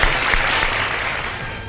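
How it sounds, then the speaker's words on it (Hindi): A studio audience at an iftar television show applauds the three participants with dense, continuous clapping, loud and steady, fading slightly at the end. "बहुत सारी तालियां हमारे आज के इन तीनों पार्टिसिपेंट्स के लिए"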